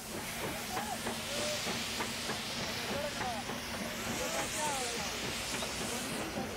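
Steam locomotive number 729, a 2-8-2 on Pakistan's railways, passing close by with a steady, loud hiss of steam and rhythmic chuffing and rail clatter underneath, while a voice speaks.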